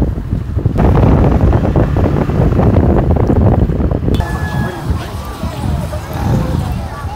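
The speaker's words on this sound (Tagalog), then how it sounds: "Sarap ng hangin. Magulo ang buhok ko." Heavy wind buffeting the microphone while riding on a motorcycle in Tobor, Pangasinan, a loud continuous rumble that eases after a few seconds, with faint talk underneath.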